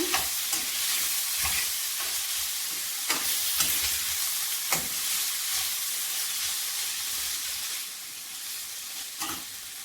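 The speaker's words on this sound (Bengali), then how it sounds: "মাঝে মাঝে ডাকনা উঠিয়ে নেড়ে ছেড়ে আলু সিদ্ধ করে নেব" Potatoes and carrots boiling in a covered pan are stirred, giving a steady hiss and bubbling with repeated soft scrapes and knocks of a spoon throughout, fairly quiet and without voices.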